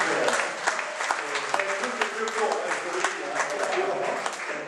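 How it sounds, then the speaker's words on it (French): An audience applauds as a tribute during a French sports debate, a steady mass of clapping hands with raised voices mixed in throughout. "Donc on peut l'applaudir là aussi"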